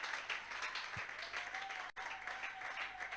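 A church congregation applauds in a dense, steady wash of clapping, moderately loud and close, continuing throughout with a brief break near the middle.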